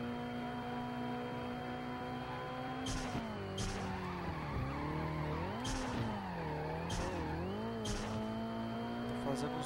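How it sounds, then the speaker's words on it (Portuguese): A car drifts in The Fast and the Furious PS2 racing game, its engine droning and sliding in pitch while tires squeal in repeated bursts, with a voice talking over it at times. "Drift aqui, mas pelo jeito o carro ele não é bom pra drift."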